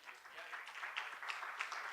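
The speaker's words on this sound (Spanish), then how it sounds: "un aplauso para Novartis" Scattered applause from a group, moderately distant and soft, continuing steadily for a couple of seconds.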